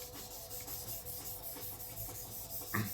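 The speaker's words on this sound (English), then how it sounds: "the right side I sharpen at a very low angle, like 6 or 7 degrees" Swedish carbon steel Misono gyuto knife rubbed across a 1000 grit whetstone at a very low angle, making a soft, even, repeated scraping close by, with a slight knock near the end.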